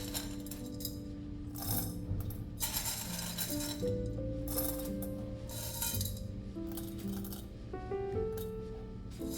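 Lavazza Rossa coffee beans rattle and clink steadily onto a kitchen scale as 18 grams are measured for a moka pot, a continuous faint pour that runs for several seconds over quiet tonal background sound.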